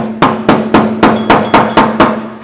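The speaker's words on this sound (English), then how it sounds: "it's pretty easy to just get a brass punch. You can see the little ears that we're hammering on" A brass punch is hammered against the ears of a fuel tank lock ring on a 1996 Chevy truck: eight sharp, evenly spaced metallic strikes with a ringing tone, close and loud, with no talking.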